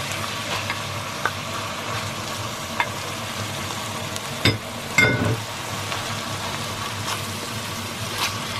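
Sliced tomatoes drop into a pan of sautéing bitter melon, a steady close sizzle of frying oil broken by a couple of louder splashing bursts and scraping stirs.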